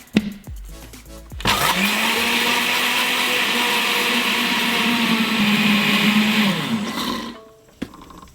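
A blender churns a liquidy pudding-powder slime mixture, starting with a few clicks before spinning up into a loud, steady whirring roar for several seconds, then winding down into quieter clatter.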